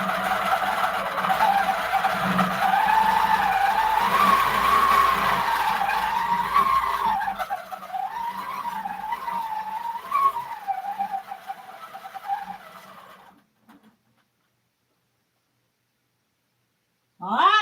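A sewing machine stitches a quilt with a steady, whining motor hum that wavers in pitch as the speed changes. It runs continuously for about thirteen seconds, then cuts out into near silence.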